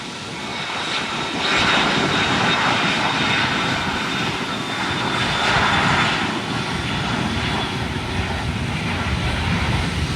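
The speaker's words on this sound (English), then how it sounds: "there goes the Alaska jet taking off." Alaska Airlines jet taking off at San Juan airport, a loud sustained engine roar that swells and holds steady across the whole stretch with a broad rushing noise, no talking.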